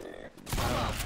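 A short burst of gunfire in the zombie shooter Left 4 Dead 2 breaks in suddenly after a quieter moment and rings on as a dense, rattling volley.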